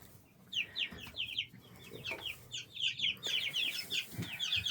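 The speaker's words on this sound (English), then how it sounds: "There's my little ugly turkeys." Young turkeys on a farm give a quick run of high chirping clucks and peeps, close by and repeated in short bursts over a soft background.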